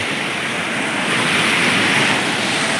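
Continuous broadband wash of surf rolling onto Tondavali beach near Malvan, steady and fairly close, swelling slightly midway, with a hint of wind.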